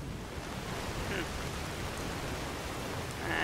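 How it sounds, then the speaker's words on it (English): Pouring rain in Skyrim VR while climbing a mountain, a steady dense hiss of rainfall that continues evenly throughout with no voices. "Did we have to choose to come up here when it was pouring rain?"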